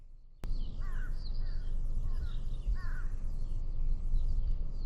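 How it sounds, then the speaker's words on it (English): Crows cawing in repeated harsh calls near the highest point of a mountain route, several bursts at moderate distance over steady wind noise, no talking. "when I stop talking, we can hear the birds tweeting."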